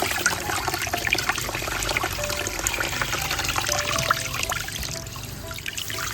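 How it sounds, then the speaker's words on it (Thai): Running water rinses the roots of a plant, a steady close trickle and splash that continues throughout without speech. "อันนี้ผมจะขอล้างครับ ล้างเลย"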